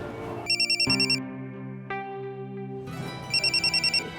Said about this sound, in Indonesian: Telepon tuh dari Empo Ipe.